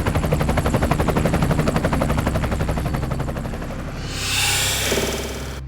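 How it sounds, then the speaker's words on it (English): A helicopter's rotor thumps in a rapid, steady chop, loud and close at first, then shifts to a broader whooshing roar as it lifts away and begins to recede. "The chopper departs for more experts from the History Channel."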